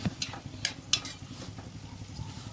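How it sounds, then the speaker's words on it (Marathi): Cashews frying in a pan for winter gum and fenugreek laddoos, with a few sharp clinks of a utensil against the pan over a low, steady frying hiss, close and fairly quiet. "सर्वप्रथम मी काजू टाकले तळण्यासाठी"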